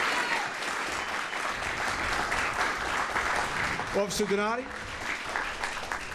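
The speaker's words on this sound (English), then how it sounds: "One more time, a round of applause." Applause from the audience at a police department awards ceremony, a steady wash of clapping that runs through the clip while someone speaks over it.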